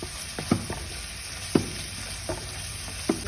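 Ginger garlic paste fries in a pan for tomato elbow macaroni, giving a steady low sizzle broken by a few sharp spoon scrapes and stirring clacks, close by with no talking.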